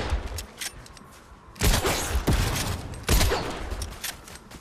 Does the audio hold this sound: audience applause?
no